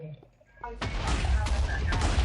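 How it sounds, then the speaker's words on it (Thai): Explosions and blasts go off in a red versus blue Minecraft PvP match: quieter game noise, then a sudden loud boom that leads into a sustained rumbling barrage of bursts. "โหระเบิดเบิ่มเลย"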